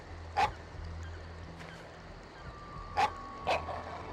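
A dog barks near a Normandy mansion in the PS2 game The Da Vinci Code, three sharp barks at irregular intervals over a low ambient drone, with no speech.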